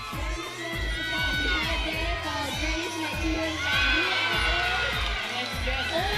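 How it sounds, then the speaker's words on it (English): At a youth world championship lead climbing event in Singapore, a crowd cheers and shouts loudly and continuously, with high whoops and yells over a steady rhythmic thump in the background. "The US crowd are going mental behind me."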